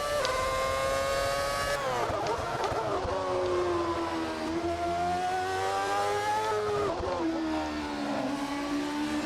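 A WRC rally car engine in a modded racing game revs hard and shifts through gears, the pitch climbing and dropping repeatedly with a buzzing, close-up tone.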